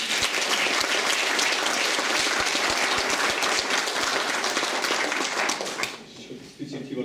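An audience gives a big round of applause to welcome a guest writer at a public event, a loud, continuous wash of clapping that fades out near the end.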